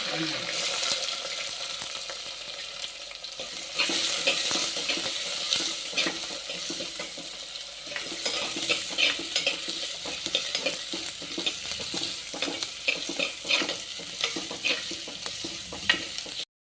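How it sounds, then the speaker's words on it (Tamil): Curry leaves fry in hot oil for a Tirunelveli brinjal curry: a dense, steady sizzle and crackle runs throughout, close and continuous, with occasional stirring scrapes. "நல்லா பொரிஞ்சுட்டு கறிவேப்பிலை இப்போ"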